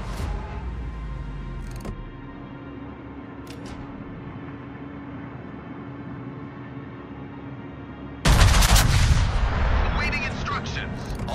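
Battleship Montana main guns firing in World of Warships, a sudden heavy booming salvo that erupts loud and broadband after a long stretch of low engine rumble and faint game sounds, then rolls and fades.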